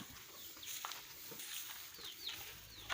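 Chickens cluck softly at a distance over a busy rural outdoor background, with scattered short calls and some higher bird chirps mixed in.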